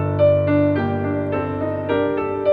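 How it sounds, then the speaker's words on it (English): Clean, dry piano with no effects, in an FL Studio remake of a song: sustained low chords with a few higher notes changing every half second or so, close and steady, no voices. "otherwise it just sounds like a regular piano"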